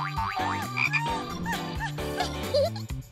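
A frog croaks loudly and close by in a rapid series of warbling, bubbly calls, alone without any talking.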